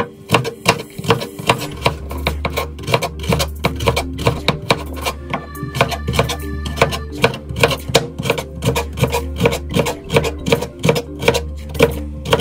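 Rapid knife chops on a cutting board as a peeled carrot is julienned, a steady run of sharp close taps throughout, with music playing underneath.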